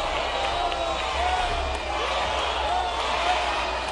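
Dense, steady crowd noise fills an arena as people jeer the Chihuahua governor Javier Corral at a public event, a loud continuous roar of voices with scattered shouts throughout.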